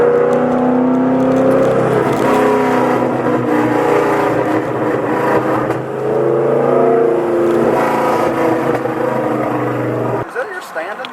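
A twin-turbo Terminator Cobra car revs hard in first gear, a loud, close, sustained engine roar that rises and falls before cutting off abruptly near the end. A voice may be faintly audible beneath it.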